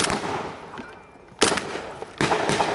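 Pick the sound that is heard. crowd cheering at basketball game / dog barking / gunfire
gunfire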